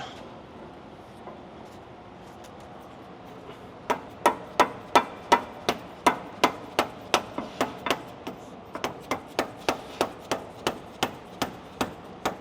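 A hammer taps a tow bar ball joint into its hole on an F-250 truck, the metallic blows coming close and steady in a long run of evenly spaced strikes after a few seconds of quiet.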